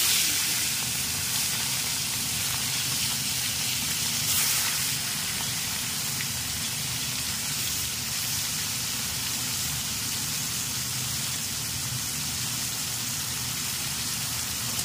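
Prawns frying in hot oil with cumin and bay leaf, a steady dense sizzle and crackle holding throughout at a close, even loudness with no voices.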